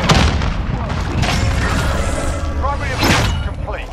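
A frag grenade goes off in Call of Duty Warzone, a heavy booming blast followed by rumbling debris and scattered bangs, with a voice talking over the game sound.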